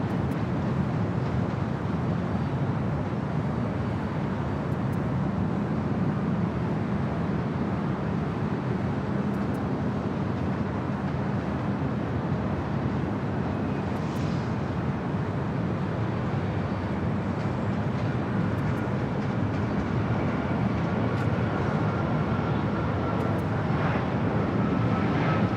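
A United Airlines jet arriving at LAX from Chicago gives a loud, continuous broadband roar that holds steady for the whole stretch.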